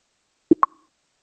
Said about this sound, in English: let me just play you an example of mimicking that uh-huh with the UI sound.